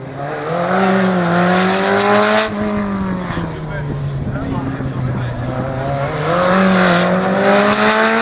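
A race car attacks a slalom course at the 12th Slalom du Pays d'Ancenis, its engine screaming loud and close through repeated rising and falling revs as it changes gear and direction.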